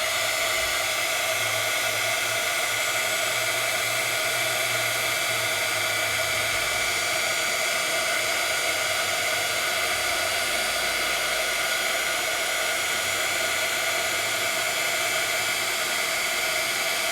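Heat tool blowing steadily to melt gold embossing powder, a constant loud hiss and whine with no break throughout, alone without voices.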